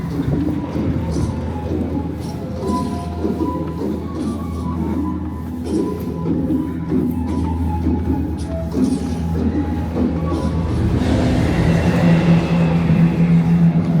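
A steady rumbling roar of the Wicker Man coaster train at Alton Towers rolling along its track, with rattling and clatter that grow louder toward the end.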